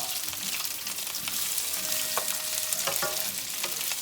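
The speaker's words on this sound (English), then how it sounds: "we're going to just saute these for about 2 minutes or so" Peppers sautéing in a pan for sausage and peppers with Marsala, a steady close sizzle with a few sharp clicks of stirring or utensil taps toward the end, and no talking.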